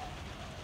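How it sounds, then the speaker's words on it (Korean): Steady rain falls over a garden of geraniums, a dense continuous hiss filling the short moment evenly and quietly with no distinct drops standing out, and nobody speaking. "빗소리가 너무 좋다"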